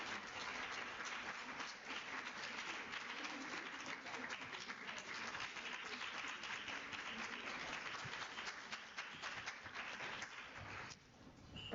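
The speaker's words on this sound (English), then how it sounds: "A round of applause as Professor Tuli Jones." Audience applause at a women in leadership seminar, a sustained wash of many hands clapping at moderate distance that runs evenly before easing slightly near the end.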